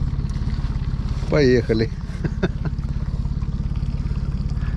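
A boat's outboard motor runs steadily on the Pechora river with small stones jammed between the propellers, giving a close, continuous low rumble. A voice speaks briefly over the engine partway through.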